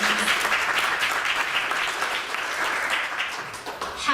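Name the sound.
applause for the Chicago History Museum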